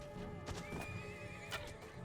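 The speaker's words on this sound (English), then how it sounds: "Wow, these horses go down easily" Horses in a battle scene in the Mount & Blade Warband mod The Last Days, neighing loudly with shrill whinnies over clip-clopping hooves and background battle din, close and clear, with no talking.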